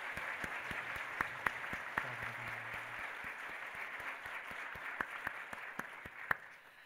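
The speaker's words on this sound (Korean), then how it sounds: "다시 한 번 더 우리 열렬한 박수로 주님의 탄생을 축하하겠습니다" A church congregation claps together at a Christmas service, sustained, even applause with sharp individual claps standing out, filling the room without voices.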